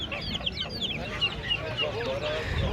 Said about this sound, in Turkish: Burada zibrit civcivler var ama içinde balta ibik de var.